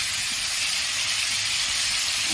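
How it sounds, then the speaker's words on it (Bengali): Ridge gourd pieces fry in oil with no salt added, giving a steady, loud, bright hiss of sizzling that holds evenly throughout. "ঝিঙেগুলো আমি ভালোভাবে ভেজে নেব।"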